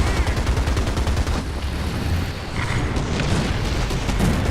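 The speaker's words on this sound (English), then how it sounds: "They called in about 50 million artillery strikes on us." Artillery bombardment in the War Thunder video game: a dense, continuous barrage of loud booms and rumbling blasts, with no pauses and no voices.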